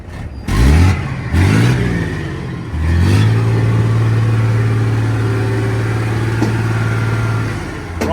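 A rare Unimog's engine gives two quick throttle blips, then settles into a sustained loud rev held steady for several seconds before easing off, recorded close by.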